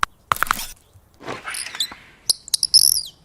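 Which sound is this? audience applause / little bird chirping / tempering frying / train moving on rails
little bird chirping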